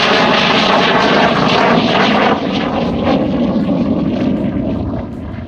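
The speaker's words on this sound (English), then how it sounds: "How loud are the jets?" Military jet flying over NAS Whidbey Island near Oak Harbor, a loud, broad roaring rush of engine noise that stays strong, then eases slightly and fades toward the end, with no talk.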